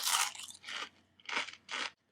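Takis Nitro rolled tortilla chips being crunched up close, four separate loud, crisp bites and chews in quick succession with brief silences between them.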